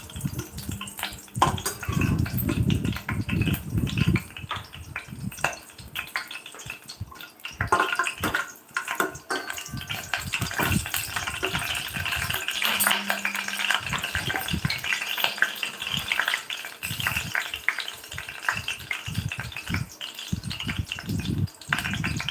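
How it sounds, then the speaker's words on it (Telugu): Garlic cloves sizzle in hot oil in a pan for a tempering, a steady crackling hiss broken by stirring scrapes and splashy bursts, close and fairly loud throughout. "ముందుగా వెల్లుల్లి వేసుకుంటే బాగా ఫ్రై అవుతాయి అన్నమాట"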